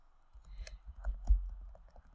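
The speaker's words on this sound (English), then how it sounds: "here I will type" A handful of quick, light keystrokes clatter on a computer keyboard close by, irregular and soft against a quiet background, with no talking.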